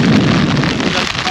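Heavy tropical-storm rain pours down at a mountain campsite on Victory Peak, a loud, dense, continuous wash of noise close around the listener with no talk over it.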